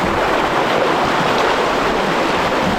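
Rushing river rapids during a boat ride near Pagsanjan Falls in Laguna, Philippines, a loud, dense, unbroken roar of churning water close to the microphone.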